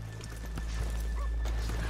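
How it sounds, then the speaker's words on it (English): Horses in the Western video game Red Dead Redemption 2 are heard through low ambient game sound, with faint hoof clops and a brief soft snort over a steady low hum and background murmur. "let's leave the horses here off the main drag"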